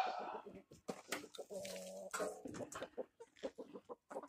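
Hens clucking and calling inside a coop built from recycled materials, a close, busy chorus of short clucks and squawks, moderately loud over the quiet yard.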